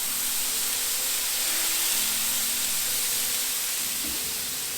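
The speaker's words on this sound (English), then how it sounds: "We're going to go ahead and just spray a little bit more water just to loosen that up." Water sprayed onto a hot Blackstone griddle makes a loud, continuous steamy hiss that holds steady before ending in a small thump.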